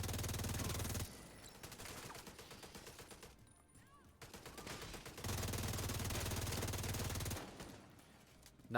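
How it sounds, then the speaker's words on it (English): Automated turrets in Division 2 trade sustained bursts of rapid gunfire, loud and continuous in two long stretches separated by a quieter lull, with no talk over it. "Not me sitting there watching turrets shoot at each other"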